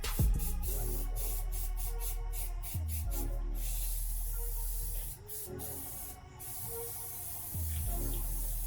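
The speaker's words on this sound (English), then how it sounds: "why are you just spraying spray paint all over your truck?" High-temperature black spray paint hisses from an aerosol can onto a truck in steady, close bursts, with a few brief pauses between sprays.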